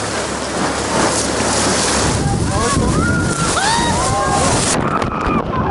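Strong gusting wind from a windstorm blasts along a river in the Grand Canyon, loud rumbling buffeting against the microphone, with voices calling out partway through before it eases.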